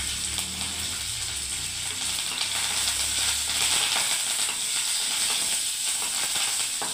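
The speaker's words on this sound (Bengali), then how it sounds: "এবারে দেখুন বন্ধুরা আমি কারি পাতা দিয়ে দিচ্ছি, কারি পাতা দিয়ে দিলাম বন্ধুরা দেখুন।" Curry leaves dropped into hot oil while making a green moong fry, giving a loud, steady crackling sizzle that keeps going throughout, with a low rumble under the first half that fades away.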